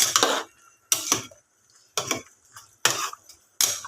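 A spoon clatters and scrapes inside a pot while okra and string beans are stirred, in five distinct close strokes separated by short pauses, with no talking.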